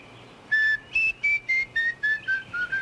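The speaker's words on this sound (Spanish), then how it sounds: "A ver, silba." A person whistles a short run of about nine clear, evenly spaced notes, close and fairly loud, the pitch gently stepping down.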